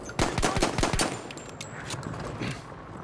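Gunfire in Battlefield 1, opening with close, loud rapid bursts of automatic shots that thin out into scattered, more distant cracks over a rumbling battlefield background.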